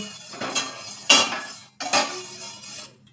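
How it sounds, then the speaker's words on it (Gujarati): Sugar syrup with cardamom powder being stirred in a pot for bread gulab jamun, heard as a few close metallic scrapes and clinks of a spoon against the pot in short bursts. "અને હવે આપણે હલાવી લેશું"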